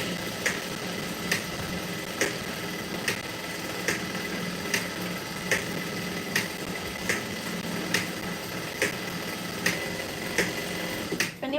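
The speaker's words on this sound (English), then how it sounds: "especially if you have a machine like mine where your reverse button is like super close to your sewing, you just stitch like crazy." Sewing machine stitching a pair of worn jeans, running steadily and loud with a regular ticking beat repeating about once a second, no voices.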